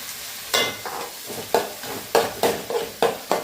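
Shallots and onion fry in a pan with a steady close sizzle, broken by about eight sharp scraping stirs that come at an uneven pace.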